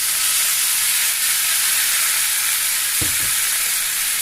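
A paste of tomato and browned onion sizzles loudly in a pan of frying chicken, a dense steady hiss with a brief clatter of stirring near the end.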